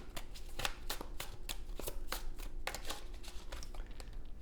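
Tarot cards being shuffled and drawn, a run of crisp riffling slaps and paper flicks close by, irregular bursts with short pauses, no talking.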